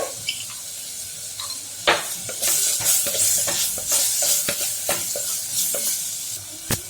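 Onion and tomato masala sizzles and fries in a pan for a Kerala-style pearl spot fish dish, with close, irregular clinks and scrapes of a spoon stirring throughout, no voices.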